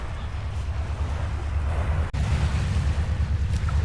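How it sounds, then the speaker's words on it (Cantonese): A boat getting ready to leave a pier at To Tau Wan village, Ma On Shan, Hong Kong: a steady broadband rush of wind and water, loud and close, with no voices. "準備出船喎"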